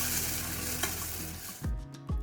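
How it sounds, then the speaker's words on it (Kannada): Masala and curry leaves fry in a pan with a loud, bright hiss that fades, followed by a few sharp bursts of spattering sizzle as the mixture is stirred; no voices. "ನಂತರ ಒಂದು ಸ್ವಲ್ಪ ಕರಿಬೇವಿನ ಸೊಪ್ಪು ಎಲ್ಲ ಹಾಕ್ಕೊಂಡ್ಬಿಟ್ಟು ಇದನ್ನು ಚೆನ್ನಾಗಿ ಫ್ರೈ ಮಾಡ್ಕೋಬೇಕು"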